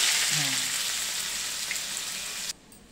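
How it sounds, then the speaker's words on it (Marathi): Onion frying in a pan for rajma, a loud steady sizzle that fills most of the stretch and then drops off abruptly near the end, with a faint voice briefly underneath. "आता हे कांदा टाकते ना."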